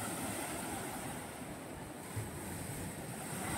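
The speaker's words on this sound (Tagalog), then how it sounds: "At ang laki ng alon, no?" Big ocean waves crash and surge against the Diguisit rock formations near Baler, a steady, loud broadband roar of surf with wind buffeting the microphone and no speech.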